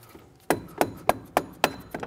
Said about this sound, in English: use a dead blow hammer.